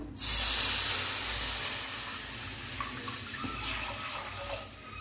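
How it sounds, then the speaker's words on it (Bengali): Water is poured into a hot kadai on a gas flame, a loud splashing hiss that fades into a softer sizzle over a few seconds. "এবার কড়াইতে দিলাম জল।"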